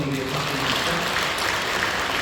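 A church congregation applauds in a steady, dense wash of clapping that fills the whole moment, with no voices standing out.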